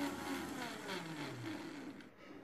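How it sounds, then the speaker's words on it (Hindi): A mixer grinder whirs steadily as it blends an apple milkshake, its motor pitch wavering slightly before easing off near the end. "अब हम इस मिक्सी के जार को कवर करके अच्छे से ब्लेंड करेंगे।"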